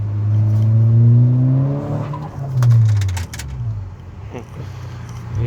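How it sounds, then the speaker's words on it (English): 2012 Volkswagen Golf R accelerating from inside the car, the engine pitch rising, then easing off as the blow-off valve releases with a short hiss, followed by lighter revs. "As you see, you can hear a blow valve also."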